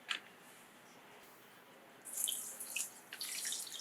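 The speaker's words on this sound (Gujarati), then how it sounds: "તો આમાં આપણે 1 કપ પાણી નાખીશું." Water poured from a cup onto sugar in a pan while making raw mango sharbat, a soft splashing pour starting partway through and continuing in uneven gushes, close and fairly quiet, with no talking.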